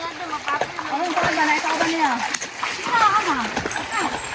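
Splashing in water during swim training before a provincial meet, steady churning splashes close by under near-continuous children's and adults' talking.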